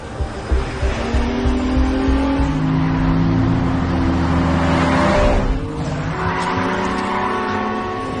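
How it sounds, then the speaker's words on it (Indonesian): Several sports cars accelerate hard, engines revving loudly with rising harmonic whine and some tire squeal, continuous and close throughout with a brief dip mid-way. "Dengan beberapa mobil sport, Sam membimbing mereka agar menggaspol mobilnya ke lokasi"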